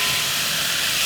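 Pork and kimchi sizzle in perilla oil as they stir-fry for kimchi jjigae, a steady, loud, dense hiss that runs unbroken from start to finish.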